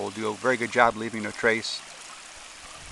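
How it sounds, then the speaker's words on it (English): A small babbling creek flows right beside a campsite, a steady soft trickle and hiss under someone speaking that continues alone once he stops. "It's got the little babbling brook action, which I really enjoy."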